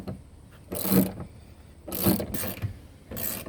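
Ratchet tightening bolts with rubber gaskets inside a 1997–1999 Chevy C/K 1500 extended-cab truck, three short bursts of close, rapid clicking separated by brief pauses.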